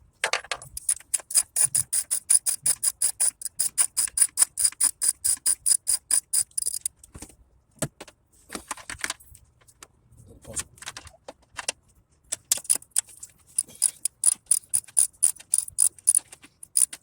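Ratchet clicking rapidly while loosening 10 mm valve cover bolts on a Nissan 350Z / Infiniti G35 engine, long steady bursts of close, sharp pawl clicks separated by pauses and small metallic handling noises.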